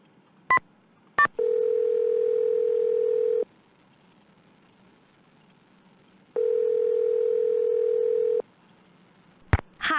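A telephone in the video game Nancy Drew: Stay Tuned for Danger gives two quick dial blips, then two long, steady ring tones separated by silence, clean and even, with no talk.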